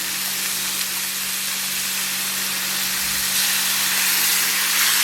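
Ossobuco braising liquid hitting a hot pan, a continuous loud broadband sizzle and steam hiss that holds steady and swells slightly toward the end, with no talking.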